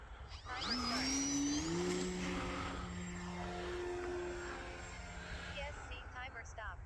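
A small electric E-flite Ultra Stick 1.1m RC propeller airplane whines past overhead, its pitch rising then sliding lower as it moves away, with steady wind noise throughout.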